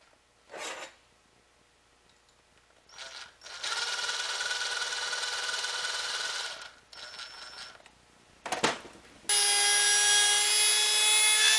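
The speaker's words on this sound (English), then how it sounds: "I'm using the hand drill to drill out the inner circle" Steady grinding, rasping noise of a hand drill with a hole saw cutting into a 1976 Mazda RX-5 fuel tank, in long sustained bursts, with short scrapes between and a high whining tone at the end.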